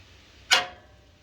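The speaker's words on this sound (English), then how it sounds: "that is the sound of me putting my flashlight right there" A flashlight is set down onto a car part under the hood of a 2006 Ford Explorer 4.0, making a single short, close knock that fades quickly in a quiet garage.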